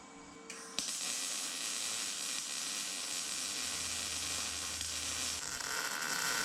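Blocks are welded onto a firewood processor infeed table, with a sudden onset of steady, close crackling hiss that holds for several seconds and then eases off near the end.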